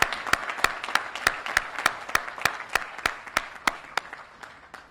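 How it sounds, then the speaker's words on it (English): Applause from an audience at the Illinois State Fair honoring volunteers with 20 years of service, a steady run of sharp, evenly spaced claps standing out over a softer wash of clapping, fairly close and moderately loud. "let's have a big round of applause for those that, again, volunteer 20 years of service"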